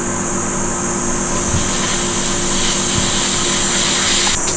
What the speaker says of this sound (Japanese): ガスはこのように入れます。